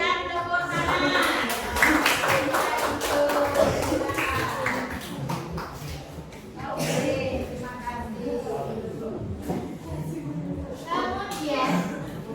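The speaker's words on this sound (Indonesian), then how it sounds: "terima kasih untuk nomor 2 kita berikan tepuk tangan" Schoolchildren clapping together for a classmate in a classroom, a dense run of rapid hand claps mixed with chatter from the kids, fading and returning over several seconds.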